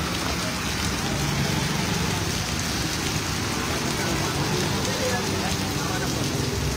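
Night rain falls hard and steadily over Karelibaug in Vadodara, an unbroken, close, loud wash of drops with no pauses.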